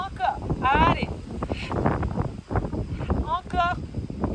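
Outdoor wind buffeting a microphone in broad low rumbling gusts, running under a voice as she gives exercise instructions.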